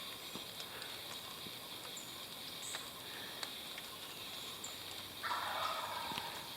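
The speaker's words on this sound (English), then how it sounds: "There's some turkeys." Wild turkeys gobble in a wooded area, faint and distant, with a louder burst near the end over steady insect-like woodland hiss; no talking.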